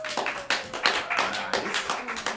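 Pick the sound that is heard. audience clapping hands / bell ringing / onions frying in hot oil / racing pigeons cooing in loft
audience clapping hands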